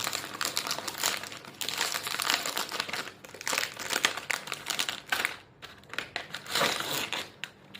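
A bag of salt and vinegar potato chips, a long-chip variety, crinkles and crunches loudly and continuously as it is torn open and handled up close, with no talk.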